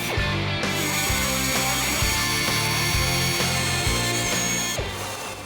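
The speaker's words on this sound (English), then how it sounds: "We'll center punch where we need to drill, make our pilot holes." A power drill bores pilot holes into a metal bumper with a steady, grinding whine and rhythmic pulsing, close and loud, starting and stopping briefly.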